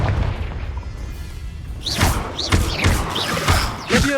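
A Confringo fire spell bursts in Hogwarts Legacy, a series of sharp booming blasts and whooshes landing in quick succession over the last couple of seconds after a quieter ambient stretch.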